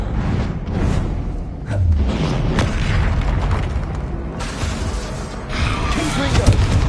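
Incendio fire spells cast in Hogwarts Legacy erupt as repeated bursts, booms and whooshing blasts in quick succession, loud and close, with a voice speaking over parts of the sequence.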